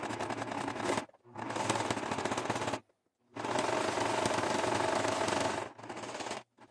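Sewing machine stitching a straight seam along a fabric edge, with three fast rattling bursts of stitching separated by short pauses. Close and loud, and no one talks.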